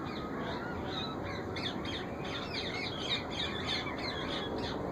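Wild ringneck parrots squawk in a rapid, repeated run of harsh, fairly faint calls over steady background noise, with no talk.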